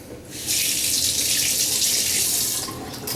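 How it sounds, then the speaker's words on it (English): Warm water runs from a tap in a steady hissing stream for a couple of seconds while a razor is rinsed, then tapers off. "A quick rinse off with some warm water."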